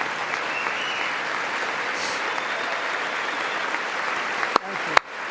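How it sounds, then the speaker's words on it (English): Applause during a joint presidential address to Congress, steady clapping from a large chamber crowd with scattered voices, ending in two loud sharp claps directly into a nearby microphone. "Is that Johnson clapping into his microphone again?"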